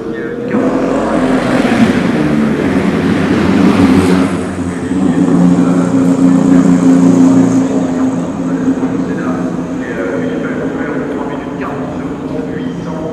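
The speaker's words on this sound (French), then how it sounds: "Et les Toyota qui sont en train de revenir là" Toyota prototype race cars sweep past during qualifying at the Le Mans 24 Hours, a loud continuous engine roar swelling and fading as they go by, with a person talking over it.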